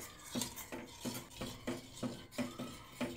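Spoon or ladle scraping and clinking against a pot while stirring boiling milk with ginger, pepper and turmeric, a steady rhythm of about eight strokes in three seconds, close and fairly quiet with no talk.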